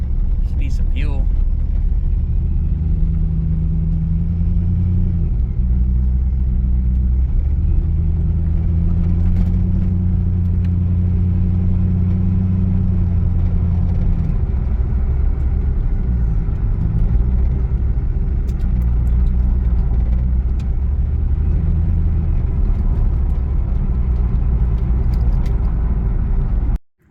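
A revived, once-abandoned C5 Corvette V8 idles with a steady, loud, low rumble that continues throughout and cuts off abruptly at the end.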